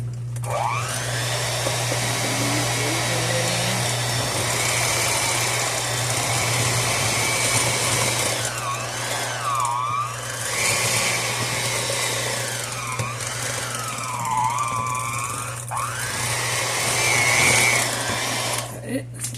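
A stand mixer on low speed churns oatmeal raisin cookie dough with a steady whirring motor drone and strain that rises and falls as the dough ball forms, while a person talks over it.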